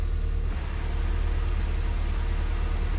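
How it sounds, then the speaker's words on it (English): A manual-transmission Honda Civic engine idles steadily with a continuous low, rattly chatter from the clutch, close and loud, with no talking. "that's just my chattering from my clutch"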